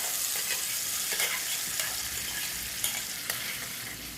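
Cashews and raisins sizzle steadily in hot ghee, with clinks of a spoon scraping and stirring through them, close and continuous, with no talk.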